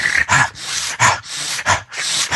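A person imitates a dog's reverse sneeze with rapid, harsh snorting inhalations in repeated bursts, close and loud.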